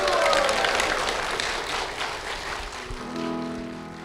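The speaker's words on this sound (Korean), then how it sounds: "분께 축복의 박수 부탁드리겠습니다." Church congregation applauding two members being blessed, a broad wash of clapping that fades into a soft sustained organ or choir tone near the end.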